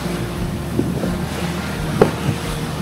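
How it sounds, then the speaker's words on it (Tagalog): Strong wind buffets the microphone on a moving boat, a constant low roar with a few brief thumps and gusts. "Taas ng hangin."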